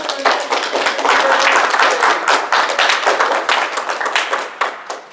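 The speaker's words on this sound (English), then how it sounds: "Please give Travis a round of applause" A game-show studio audience gives a contestant named Travis a lively round of applause, with dense, steady hand clapping throughout.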